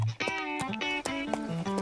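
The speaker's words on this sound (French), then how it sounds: "J'adore te regarder galoper." A horse gallops in an animated show-jumping competition, its hooves clopping in quick, irregular beats over a bright music score.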